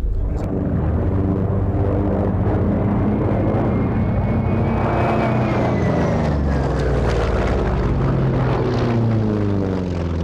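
A Grumman Hellcat World War II fighter plane roars past, its powerful piston engine loud and sustained with a shifting, droning pitch as it flies by, no voices over it.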